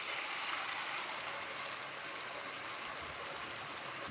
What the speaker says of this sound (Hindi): अभी मैं इसके अंदर टमाटर का पेस्ट डालूंगा